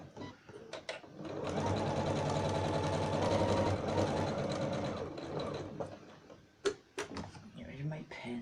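A sewing machine runs in a steady, whirring burst for several seconds while back stitching on a makeup bag, close and clear, followed by a few knocks and clicks from handling, with someone talking around it.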